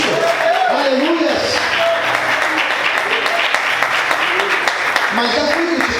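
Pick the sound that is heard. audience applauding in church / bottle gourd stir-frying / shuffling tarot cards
audience applauding in church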